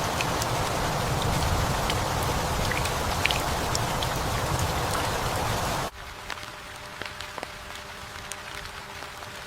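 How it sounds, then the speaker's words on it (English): Rain falling on leaves in the outdoor habitat of a common tailorbird nest, a dense steady patter that abruptly drops to a sparser, quieter dripping about two-thirds of the way through. "Rain falls without warning."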